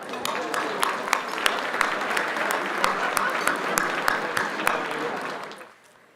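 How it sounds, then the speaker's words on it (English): Steady applause from a luncheon audience honoring sponsors at a Latinos Unidos event, dense clapping with a few sharper claps throughout, fading out near the end. "Let's give them a round of applause."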